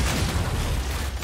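Grenade blast in the video game Gears 5, a dense, loud low-end boom and rumble filling the whole short moment, with no separate onset or decay.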